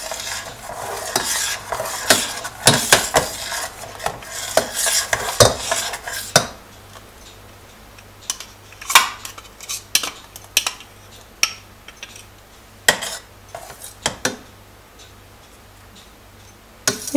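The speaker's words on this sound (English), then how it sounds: "Keep stirring for 5 minutes in low flame." A spatula scrapes and clinks against a pan as a caramel custard mixture is stirred over a low flame, with repeated sharp taps and scrapes, louder and busier at first, then sparser with a faint sizzle beneath.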